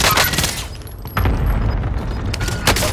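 A sniper rifle shot cracks out in a video game firefight, a loud burst with rumbling booms and scattered gunfire around it, followed by steady low battle noise.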